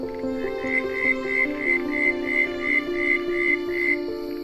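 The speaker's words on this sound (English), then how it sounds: "there are at least 3 different types of frogs in this pond. They make the most extraordinary sounds" Frogs of several species croak in a pond in a steady, repeating rhythm of pulsed calls, layered over a low continuous chorus, fairly close and clear with no voices.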